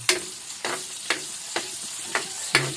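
Garlic and onion frying in oil in a pan, giving a continuous sizzle with regular spatula scrapes about every half second.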